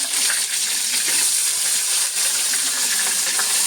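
Coconut pieces sizzling in a pan while chicken is cooked in a dry roast, a loud, close, continuous bright hiss with small crackles and slight swells, and no voices.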